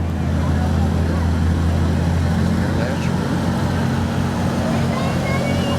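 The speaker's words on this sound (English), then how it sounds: "There comes a sharp-looking little tractor" A tractor engine drones close by without pause as it drives past in a parade, a steady, rumbling low mechanical chug that stays loud and even throughout.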